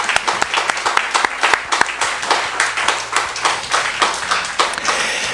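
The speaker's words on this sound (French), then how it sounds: "Je crois qu'ils méritent tous une bonne main d'applaudissements pour les gens qui sont présents ici" An auditorium audience at a regional health coalition debate in Saint-Jérôme claps steadily for the candidates, a dense, sustained round of applause with no voices on top.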